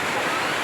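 Heavy downpour pounding down on a farm like a wall of water, a dense, steady, loud broadband roar that fills the short moment without a break.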